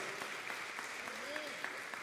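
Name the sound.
church congregation applauding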